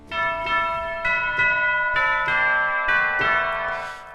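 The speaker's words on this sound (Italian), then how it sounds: "Ho dato una curva di equalizzazione specifica e un po' di ambiente alle campane che abbiamo usato all'inizio" Ringing bells from the opening of a Carol of the Bells production, treated with equalization and reverb ambience. Bright, resonant strikes land about every half second, with long tones overlapping and sustaining into a spacious tail.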